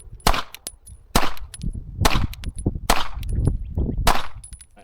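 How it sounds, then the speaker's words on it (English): Pistol shots from a Shadow Systems CR920 handgun at an outdoor range, about five loud sharp reports spaced roughly a second apart, each with a ringing tail and faint target clangs between them. "all 10 rounds off the Shadow System CR920"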